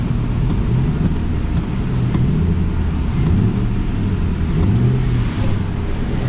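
A car engine idles steadily in drive during a transmission test in an auto repair shop, a constant low rumble with slight wavering pitch, fairly loud and close, no talking.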